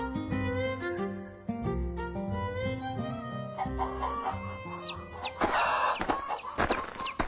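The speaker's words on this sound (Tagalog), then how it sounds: "maayos na ang kubo at kulungan ng mga manok ni Tatay Estong" Chickens cluck and call continuously at close range in a backyard coop, with a rooster crowing among them and a busier burst of squawks toward the end.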